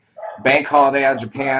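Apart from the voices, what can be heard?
dog barking in the background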